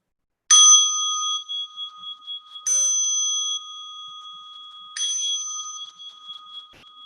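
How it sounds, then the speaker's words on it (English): A meditation bell is struck three times at even intervals, each strike ringing bright and clear before a long sustained tone fades slowly, with no talking over it. "Let me call the bell."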